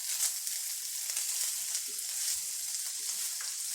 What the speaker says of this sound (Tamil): அதையும் போட்டு எல்லா பக்கமும் மசாலா படுற வரைக்கும் நல்லா கலக்கி விடணும்.